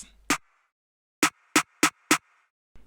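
Snare drum sample from a hip-hop beat, struck five times in isolation: sharp, crisp hits with a short tonal ring, one alone, then four in an even rhythm.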